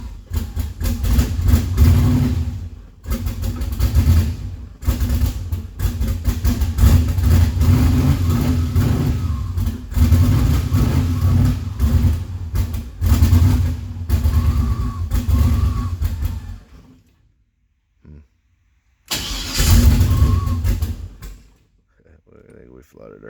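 A car engine fitted with a newly installed Holley Terminator X fuel injection system runs and revs unevenly, surging and dipping, then cuts out briefly before firing again and stopping; a voice talks over it at times.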